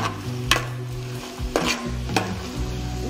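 Onions and green chillies frying in a pan for tamarind fish curry, stirred with a utensil that gives a few distinct scraping strokes over a soft continuous sizzle, with no talk.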